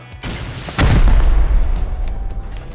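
Gunfire in the survival video game Rust: a loud, close blast with a sharp crack and deep boom, followed by a rumbling tail and a few fainter shots.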